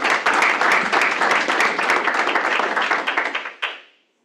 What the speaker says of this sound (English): let's give Tony a round of applause for Play of the Week